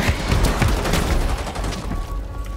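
Dense, rapid gunfire from Rainbow Six Siege rattles loud and close in overlapping bursts, a continuous fusillade with no pauses.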